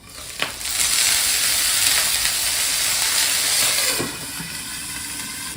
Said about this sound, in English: Put the lid on and let it steam.